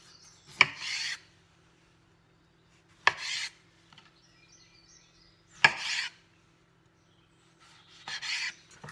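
A knife cuts a green tomato into pieces with four separate rasping, crunchy strokes spaced a few seconds apart, close by, with quiet pauses between and no talking.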